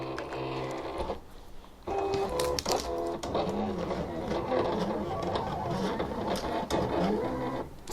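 Silhouette Cameo cutting machine cutting an SVG design, with whirring motor runs and rapid mechanical clicks and beeps of the carriage moving back and forth, fairly close, while someone talks over it.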